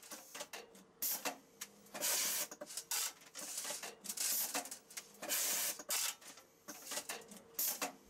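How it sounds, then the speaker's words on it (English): A Zebra label printer built into a BAGMATIC T-375 packaging machine prints a label with a series of short, bursty mechanical whirs and feeds, fairly quiet and separated by brief pauses. "the computer has transferred the label into the machine's built-up zebra printer"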